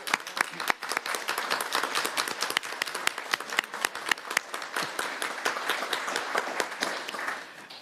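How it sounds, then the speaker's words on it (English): Audience applause at a city council meeting for appointed committee volunteers, dense rapid clapping from a room of people lasting several seconds before tapering off. "Please join me in giving them a round of applause."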